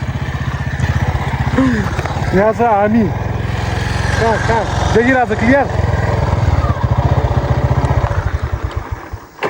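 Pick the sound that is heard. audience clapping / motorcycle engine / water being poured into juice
motorcycle engine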